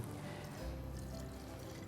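Green salt is poured into a beaker of distilled water in a school science lab, producing a soft, steady watery rush that runs continuously and fairly quietly for a couple of seconds.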